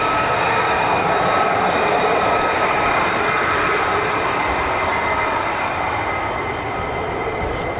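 An F-35 fighter jet flies at RAF Lakenheath, home of the US Air Force 48th Fighter Wing, making a loud, steady, broadband roar that holds for several seconds without a break.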